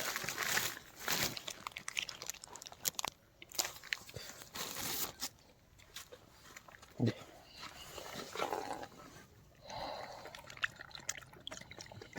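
Puppies eat milk and flatbread noisily, with wet lapping and crunching bites mixed with faint shuffling and short bursts of background chatter.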